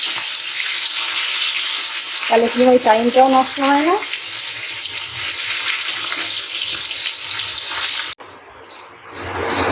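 Dishes being scrubbed and rinsed under a running kitchen tap, a steady close rush of water with someone briefly speaking over it before the flow cuts off near the end.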